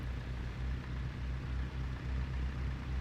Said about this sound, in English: It's the low RPM sound.